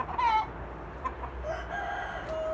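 A rooster gives a short crow and a few clucks nearby, fairly loud at first and then trailing into quieter scattered calls, no talking.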